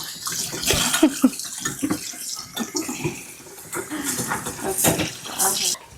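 Tap water running and splashing into a kitchen sink while a giant bowl is washed, with irregular bursts of gushing and sloshing and a few clinks, under people talking nearby.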